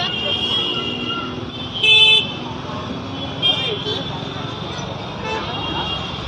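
Busy Delhi street traffic with e-rickshaws and cars, a constant roadway hum broken by a sharp car horn honk and a second shorter toot, close and fairly loud.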